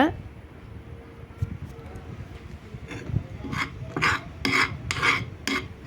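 Homemade clay dough being mixed by hand with wheat flour, giving soft rubbing and scraping sounds that grow into louder rasping strokes toward the end, close up and under faint background noise.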